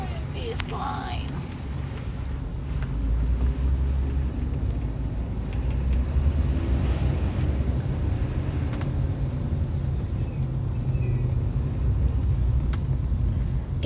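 Road traffic crawling through a heavy jam in Cilandak, a steady low rumble of idling and slow-moving cars that holds for the whole stretch, with faint voices talking underneath.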